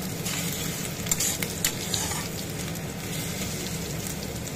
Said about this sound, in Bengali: আলুগুলো একটু ভালো করে তেলের সাথে নেড়ে নেব